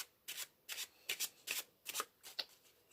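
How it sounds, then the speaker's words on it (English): A packet of playing cards being shuffled by hand, with about six distinct crisp riffling bursts in a steady rhythm, close and fairly quiet, no talking. "then they can shuffle the packet themselves just to get it lost"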